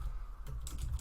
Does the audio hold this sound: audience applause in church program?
no